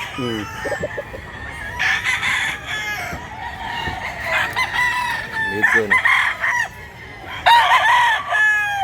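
Roosters crow repeatedly and hens cluck among a batch of 28 chickens bought and bound for Masbate, the calls loud and overlapping in a busy flock, with a brief spoken remark among them.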